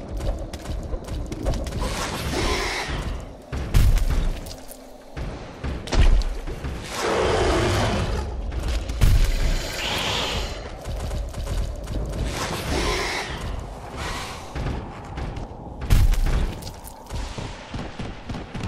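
A grenade explosion in the Aliens: Colonial Marines shooter game, heard as heavy thumps and bursts among clattering gunfire and mechanical noise. The loud, dense combat sound runs throughout.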